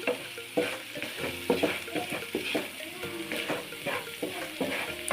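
Food sizzles in a hot pan while a utensil stirs and scrapes in a busy, uneven rhythm, with meat being fried with salt and turmeric.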